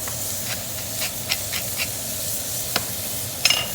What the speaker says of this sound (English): we'll just add our tomatoes just so they can sort of blister down a bit